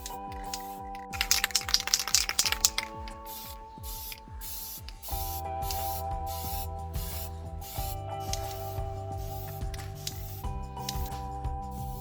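Insect spray hisses in short bursts as bugs are sprayed outdoors, the close aerosol jets mixed with clicks and rustling handling noise at fairly low level.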